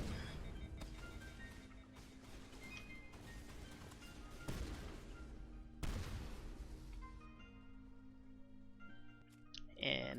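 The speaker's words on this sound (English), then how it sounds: "Katana in action right now. It's an amazing shotgun, do a lot of damage." A Katana shotgun fires in Mass Effect 1, a handful of loud, sharp blasts spaced irregularly over several seconds against a steady tonal game background.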